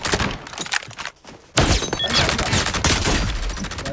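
Gunfire bursts from a mobile shooter game, rapid loud cracks and thuds in dense clusters, dropping out briefly before resuming even louder.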